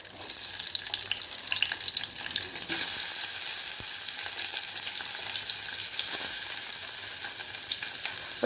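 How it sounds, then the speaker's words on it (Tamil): Vegetables sizzle steadily in hot sesame oil in a cooker for South Indian kadamba sambar, a dense continuous frying hiss that holds close and even throughout, with no voices. "நல்லெண்ணெய் காஞ்ச பிறகு அதுக்கப்புறம் நம்ம எடுத்து வச்ச காய்கறி எல்லாம் அதில் ஒன்று ஒன்றா சேர்த்துருங்கோ"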